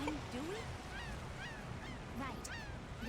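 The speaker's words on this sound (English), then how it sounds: "Mike, you hear gulls." Seagulls call in a game scene of Tales of Vesperia, their repeated high cries sounding over a constant rush of ocean waves and surf.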